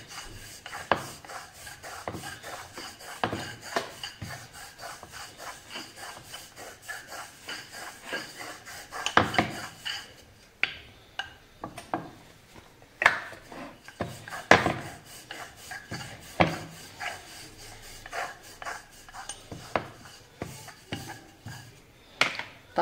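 A rolling pin presses thick red pumpkin dough for ghare flat, making soft, irregular rubbing and scraping strokes with occasional sharper knocks, close by and fairly quiet.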